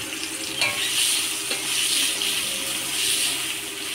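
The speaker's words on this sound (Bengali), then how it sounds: "এই তেলের মধ্যে আলুগুলো ভেজে নিব।" Potatoes frying in hot oil while cooking a Bengali fish-head and cabbage dish, giving a steady, close sizzle with crackling and occasional stirring clatter throughout, no talk.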